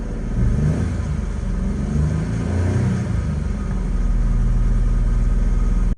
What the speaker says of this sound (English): And now I'll show you what it sounds like when you do too much gas.